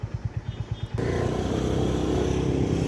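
A Honda Hness CB350 motorcycle idles with a steady low thump, then its engine note rises into a continuous, dense roar as it rides, close and loud with no talk.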